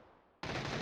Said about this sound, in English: Shooting through the window there.